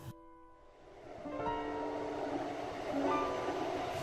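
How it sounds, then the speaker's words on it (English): A train whistle sounds aboard a train heading to Tarumi, a layered tonal wail swelling out of quiet over rumbling carriages, moderately loud and with no voices. "As the train whistle blows"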